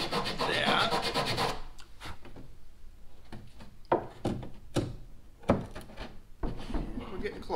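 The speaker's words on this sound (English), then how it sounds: "So now I'm going to sand it until I get the perfect fit." A wooden part for a dinghy is sanded by hand to fit, with a dense rubbing rasp at first and then short separate strokes and knocks, close up, under faint talk.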